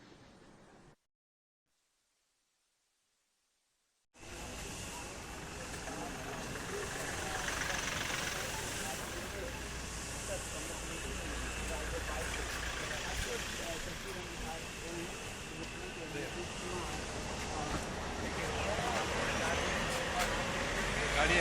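A vehicle idles steadily behind a roadside gathering in Bihar, a continuous low engine rumble under broad crowd noise, after a short silent gap at the start.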